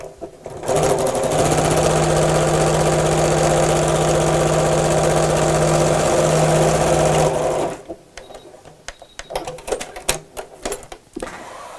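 A sewing machine stitches around a Christmas stocking in one loud, continuous run of rapid needle clatter, close by, then stops and gives way to scattered handling knocks and rustles.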